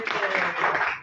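A classroom audience claps for a group presentation at a community learning session: a short, dense burst of many hands close by, with voices mixed in.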